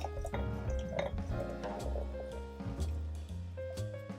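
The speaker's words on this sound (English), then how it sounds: "And let's pour it in very slow." Jabuticaba soda trickles slowly into a glass, giving soft wet drips and a gentle fizzing pour over a faint tonal background, close and moderately loud.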